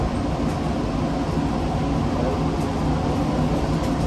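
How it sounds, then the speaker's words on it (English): The DFW Skylink airport people mover train rumbles along its guideway while departing, a loud, steady rolling roar of wheels and motors filling the cabin without pause. "Please hold on. This train is departing."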